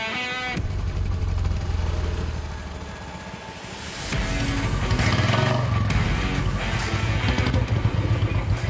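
A motorbike engine starts up and pulls away, loud and close, its steady running drone swelling after a brief lull, with no talk.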